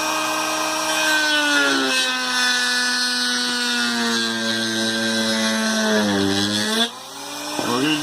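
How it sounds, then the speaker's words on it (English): A Dremel rotary tool sanding PVC pipe, a steady high whine that shifts pitch as the load changes, loud and close, then drops off briefly near the end before spinning back up. "going to take the Dremel, turn the Dremel on."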